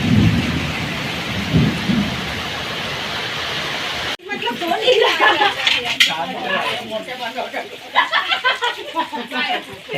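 A steady wash of rain gives way to sharp crackling bursts of thunder and scattered noise, with a low rumble early on and voices faintly present, in a Konkan village storm.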